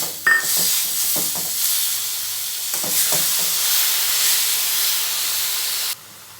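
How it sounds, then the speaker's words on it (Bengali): Coconut paste stirred into fried papaya in a pan for papaya laddu: a soft steamy hiss with a few scraping stirs near the start, ending abruptly. "এই যে নারকেলটা পেস্ট করেছিলাম এটা দিয়ে দিলাম আবার একটু নাড়ব"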